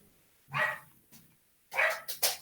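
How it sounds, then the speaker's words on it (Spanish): A pet dog barks at a passing motorbike during an online class at home. There is a single sharp bark, then after a pause a quick cluster of two or three barks, fairly close. "el perro mío está sonando mucho porque hay una moto"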